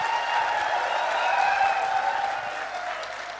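An audience at a company meeting breaks into sustained applause, dense clapping that holds steady throughout at fairly close range.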